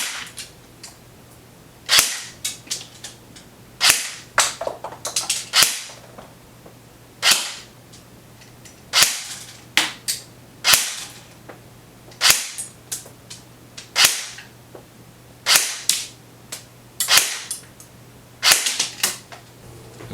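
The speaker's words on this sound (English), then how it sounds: "Now let's go ahead and chrono the gun with some .2 gram rounds." A KWA CQR MOD2 airsoft electric gun fires .2 gram rounds as a series of sharp, loud, evenly spaced single shots, about a dozen over twenty seconds, each with a snappy crack, over a low steady hum.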